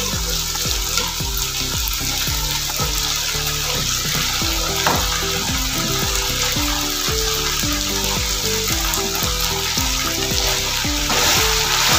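Vegetables fry in a pan for a macaroni dish, giving a continuous dense sizzle under a steady, rhythmic tonal pattern of background music, with no voices present.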